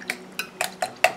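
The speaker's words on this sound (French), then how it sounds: "Et je viens mélanger." A utensil stirs aloe vera mist ingredients in a small container, giving five sharp, evenly spaced clinks against the side, close and crisp with quiet gaps between.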